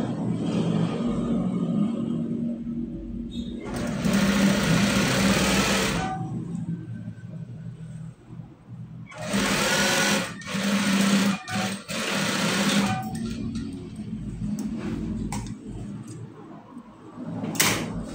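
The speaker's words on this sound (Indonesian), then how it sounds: "kita jahit setik atau ditindis pada jahitan yang tadi ya." A sewing machine stitching a trouser pocket runs in three loud, close bursts of rapid whirring, separated by quieter pauses filled with handling clicks and fabric shuffles.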